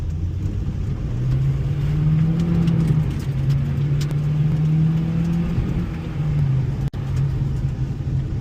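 An Acura RSX with a K20 engine pulls hard under acceleration, its steady rising engine note loud and close for several seconds, dipping briefly near the end before carrying on.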